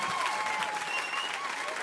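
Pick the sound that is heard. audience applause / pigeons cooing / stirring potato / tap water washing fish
audience applause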